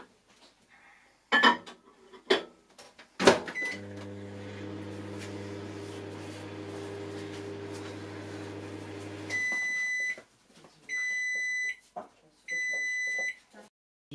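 A microwave oven warms a creamy kiwi quark mixture: a door clunks, then a steady low hum runs for several seconds before stopping, followed by three loud electronic beeps spaced apart.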